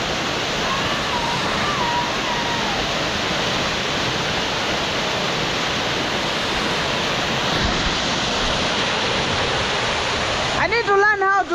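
A steady rushing wash of flowing water at an outdoor swimming spot, broad and continuous throughout, with a voice briefly rising over it at the very end.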